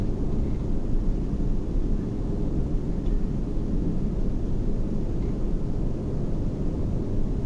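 A light aircraft's engine holds a steady, continuous drone on a gentle landing approach, a constant broadband roar without talk throughout.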